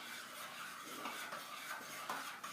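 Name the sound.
stirring BBQ sauce with a spoon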